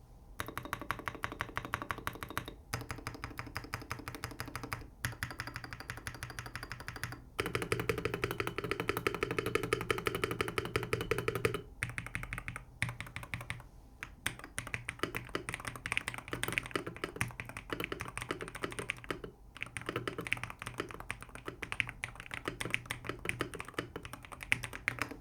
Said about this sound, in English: Despite the firm feel, the typing sound is not nearly as bad as you might expect.